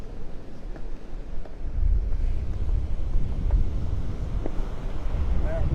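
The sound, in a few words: wind blowing in off the Gulf at the beach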